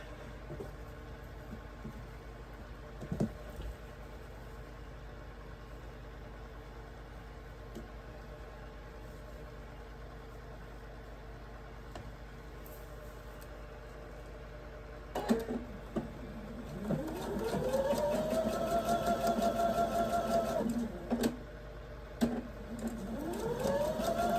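A sewing machine stitches quilt block pieces, its motor humming quietly at first and then whirring louder in sustained runs with rising and falling pitch, interrupted by short pauses between seams.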